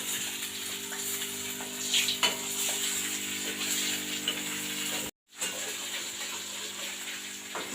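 Rohu fish pieces fry in oil on a lowered gas flame, a constant dense sizzle with faint spatters throughout, broken once by a brief silent gap before the hiss resumes.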